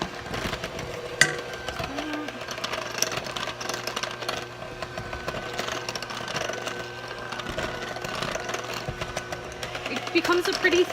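A hand mixer churns thick cinnamon streusel coffee cake batter with a steady motorized whir and faint rattle that runs throughout, close and constant.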